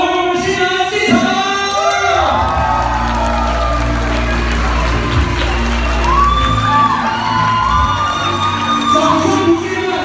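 A wedding audience cheers and whoops with scattered applause, a busy crowd roar with shouts rising over it throughout.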